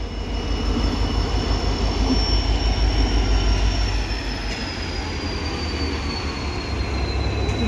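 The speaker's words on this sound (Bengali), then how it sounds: "এটা মনে হয় লোকাল ট্রেন হবো।" A small local train rolls past close by, a loud continuous rumble of wheels on rails with a long high metallic squeal running through it and no voices.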